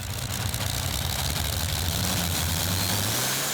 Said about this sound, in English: Let's see what his two Rover Meteor engines can manage.